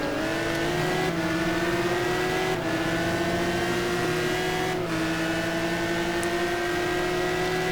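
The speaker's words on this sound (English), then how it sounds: "Looks like the Ferrari's got a little bit more on the top end than the Lambo does" Ferrari and Lamborghini GT1 race car engines in a racing video game at Suzuka, a loud sustained high-revving drone with quick gear-shift dips every couple of seconds, heard onboard and close.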